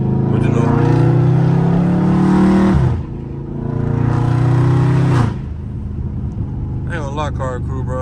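A loud Dodge Charger Scat Pack driving through the city, its engine revving hard twice in long rising pulls and dropping back to a rumbling idle between them, heard from close by.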